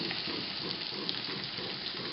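A steady, soft sizzle of garlic frying in butter in a pan, continuous and even, with no talking.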